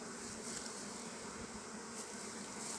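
A dense, steady hum of many honey bees on a brood frame, close and continuous with no voices over it.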